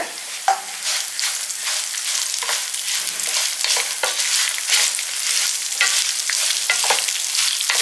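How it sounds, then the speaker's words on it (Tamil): Tamarind and a handful of curry leaves fry in a pan with a bright, steady sizzle, broken by frequent scraping stirs of a spoon, close and loud with no talking. "இதுக்கு தேவையான கருவேப்பிலையும் இதிலேயே போட்டுடலாம் ஒரு கைப்பிடி அளவு போடுங்க"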